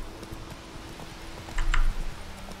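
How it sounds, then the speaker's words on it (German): Soft rhythmic hoof clops from a horse in the game The Witcher 3: Wild Hunt, fairly close, with a brief louder burst of clatter midway over steady background hum. "Oh, ein herrenloses Pferd."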